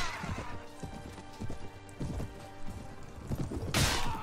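Horse hooves thud in a steady galloping rhythm during a Mount & Blade battle, heavy repeated beats close by, mixed with game battle noise and ending in a sharp crash.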